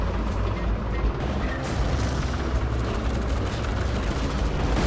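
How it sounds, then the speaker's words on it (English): Heavy, continuous machine gun fire from an M1 Abrams tank in the Roblox game War Tycoon, loud and dense with rumbling low-end blasts running the whole time and no speech. "not only does it have the machine guns, but it also has an explosive top mounted machine gun"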